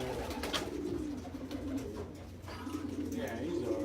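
Pigeons in a racing pigeon loft coo nearby in soft, repeated throaty phrases, with rustling and faint background noise around them.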